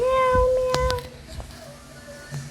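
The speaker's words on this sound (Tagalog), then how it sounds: "Meow." A cat meows a few times close by, a drawn-out tonal cry followed by softer mews, with faint background noise.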